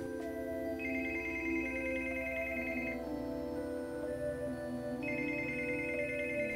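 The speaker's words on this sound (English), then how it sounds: "that phone just won't stop ringing" A telephone rings repeatedly with a bright electronic trill in two long bursts separated by a pause. It sits over a steady tonal hum of background music, and no one speaks.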